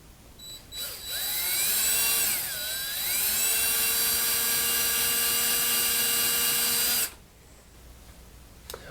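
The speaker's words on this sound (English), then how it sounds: "let's head over to the garage and find a way to drill out these 2 rivets." A power drill bores out rivets on a clothes dryer bracket in a garage, a loud high whine that spins up, dips briefly under load, then runs steadily for about six seconds before cutting off abruptly.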